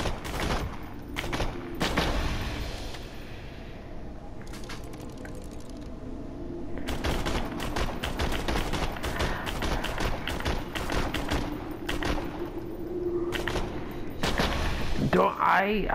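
Repeated assault rifle fire in Borderlands 2 comes as broadband bursts and single thumping shots over a steady game background, with a busier stretch of rapid shots in the second half.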